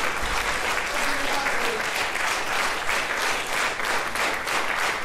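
A concert audience breaks into sustained, dense applause after the performance, an even wash of many hands clapping at once that stays loud and steady throughout.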